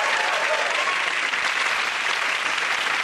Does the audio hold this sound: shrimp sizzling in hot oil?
no